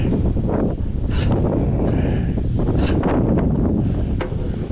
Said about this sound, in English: That wind, you probably hear it.